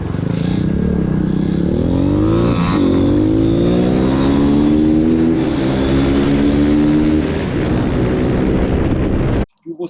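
Two 150 cc dirt bikes, a CRZ 150 ERZ and an Apollo 150 RXF, race each other with loud, close engines revving and climbing through the gears before the sound cuts off abruptly at the end.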